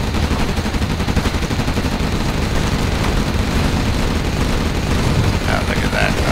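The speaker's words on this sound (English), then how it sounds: "It's the Global Liberation Army's headquarters going down." A Global Liberation Army headquarters building collapses in the real-time strategy game Generals Evolution, giving a sustained, dense rumble of explosions and crackling gunfire-like bursts that runs loud and continuous throughout.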